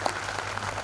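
Applause from the audience at a Hindi poetry gathering, an all-India national kavi sammelan, a steady dense patter of many hands held at a moderate, even level for a brief moment with no talk over it.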